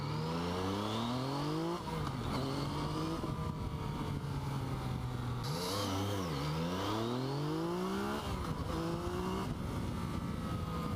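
A Yamaha MT-09 motorcycle engine pulls hard while being ridden, revving up and down through rising and falling pitch sweeps with continuous loud engine drone and wind roar, and no talking.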